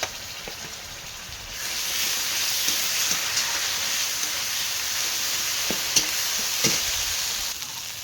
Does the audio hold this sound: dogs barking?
no